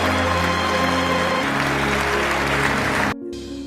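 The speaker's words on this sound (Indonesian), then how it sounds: "Ip Man pun mendapat tepuk tangan dari para kader marinir." Applause from a group of marine cadets in an Ip Man film scene, steady clapping layered over tonal music that carries on throughout and cuts out briefly near the end.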